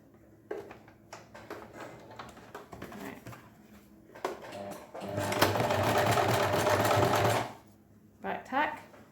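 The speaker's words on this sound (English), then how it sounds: "I'm sewing in red so you can see, but you don't have to sew in a contrast thread." A sewing machine stitches a set-in sleeve with red thread, running in short bursts and then in one steady, close whirring run of a couple of seconds, with a person talking before and after.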